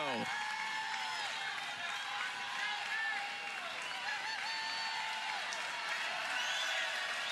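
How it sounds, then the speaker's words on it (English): Crowd noise at a college softball game, Florida Gators hosting LSU, with steady cheering and scattered clapping spread broadly and continuously through the stretch, voices mixed into the dense, sustained roar. "Crowd getting into it."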